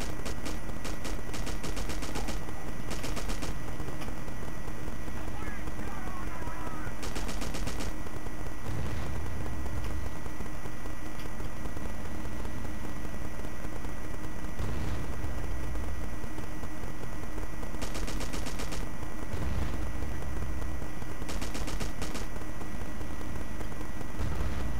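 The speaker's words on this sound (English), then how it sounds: "Okay, somebody's firing at me right there." Sustained video-game gunfire from Battlefield 1942 on the Midway map: dense machine-gun bursts and rapid shots roll on almost without pause, loud and close, with heavy thuds marking a few of the blasts.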